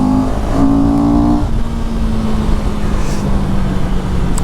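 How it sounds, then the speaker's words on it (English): CFMoto CLX Heritage motorcycle with a Kawasaki ER6 engine, loud and close, a brief rev at the start easing into a steady lower idle-like drone. "Now this is the engine from the ER6 from the Kawasaki."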